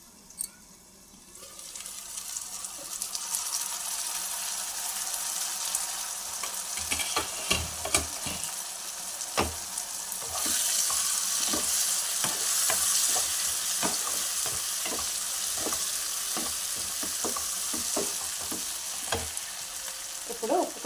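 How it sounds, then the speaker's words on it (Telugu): Bitter gourd curry sizzles steadily in a pan as a utensil stirs through it with irregular scrapes and clicks, frying hiss swelling louder midway; no talking. "మూత వేసుకొని మగ్గనిద్దాం"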